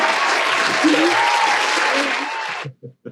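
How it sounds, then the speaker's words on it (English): Applause from a studio group during a Schmoedown movie trivia draft show, loud steady clapping for over two seconds that stops abruptly, followed by a few brief voice fragments. "I got my own applause."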